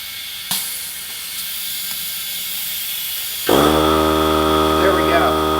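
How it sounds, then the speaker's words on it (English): An air compressor hose refills a freshly plugged flat car tire. Quiet background gives way to a loud, steady droning hum that starts abruptly partway through and runs to the end. "Now we can inflate the tire and see."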